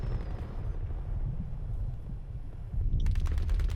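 A grenade blast in the Battlefield 2042 video game, a deep rumbling explosion rolling for a few seconds, followed by a sharper burst of crackling debris near the end.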